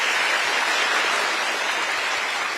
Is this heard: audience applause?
yes